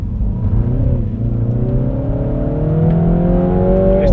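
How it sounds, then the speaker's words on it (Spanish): A 2014 MINI Cooper S turbo engine pulls steadily under acceleration with an automatic gearbox, its tone climbing smoothly and evenly. The engine note is close and continuous, heard from inside the car with no talking. "No es el típico turbo que te pega un patadón, pero su funcionamiento te hace disfrutar."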